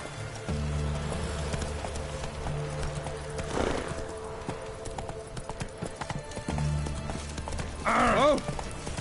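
Roach, the horse in the video game The Witcher 3, clops along in close, rhythmic hoofbeats that stop and restart, then ends with a short whinny, while a voice talks in between.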